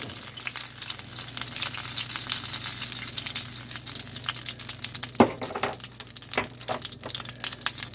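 Flour cooks in melted butter in a pan, giving a steady, close sizzle with scraping stir strokes and a few sharper clicks of the utensil, heard alone without talk.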